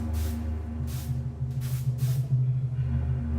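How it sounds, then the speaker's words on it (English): Chlorine disinfectant sprayed around a room in several short, hissing bursts, each about a second long, over a steady low background hum with no talking. "They sprayed Grandfather's room and his body with chlorine to destroy the Ebola"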